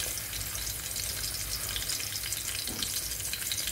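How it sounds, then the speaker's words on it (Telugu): Crushed garlic sizzles in hot oil in a pan, a steady close crackling hiss with a brief stir partway through and no talking. "కొంచెం వెల్లిపాయ వేగుతుంది కదండి"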